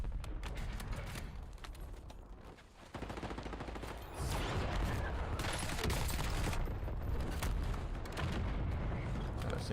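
Sustained gunfire in the video game Call of Duty Rebirth Island, a dense, continuous crackle of shots and bursts that dips briefly then swells louder, with voices occasionally audible beneath.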